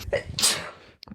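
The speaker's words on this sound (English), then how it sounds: "Wait, I'm about to sneeze." A single close sneeze, a short sharp burst with a breathy intake before it and a small sound after.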